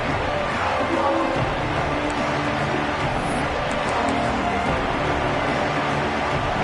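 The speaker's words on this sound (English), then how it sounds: "This crowd ready to make its presence known." A college football stadium crowd at a game makes a steady, dense roar that stays loud and unbroken throughout.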